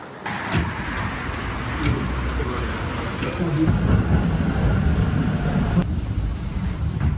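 A tram rides through Wrocław, Poland, with a continuous loud rumble of wheels and motor, rising mid-ride, and clunks and sliding of the doors.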